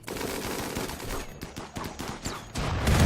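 Rapid gunfire from a RimWorld colony battle, in dense crackling bursts of overlapping shots. It stays loud and continuous for a few seconds and builds toward the end, with no voices.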